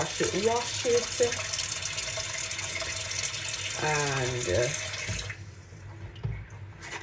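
Meat rinsed under a running kitchen tap after soaking in vinegar and orange-rind water, a steady close splash and gush with a brief pause, while a person talks over it.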